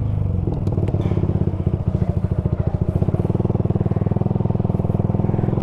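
A Suzuki Gixxer 155fi motorcycle riding in first gear, its engine giving a steady, close, pulsing putter with a rapid rhythmic firing beat and faint clatter throughout.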